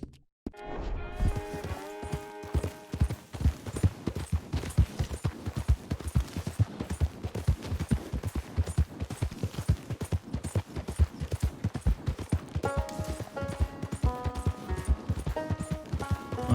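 Steady clip-clop of horse hooves walking in Red Dead Redemption II, a regular rhythmic beat that runs throughout, close and fairly loud, with game music tones and no talk.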